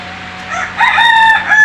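A rooster crows on a poultry farm housing both broiler and native chickens, a single drawn-out cock-a-doodle-doo rising in loudness and ending strongly, fairly close, over a faint steady background hum.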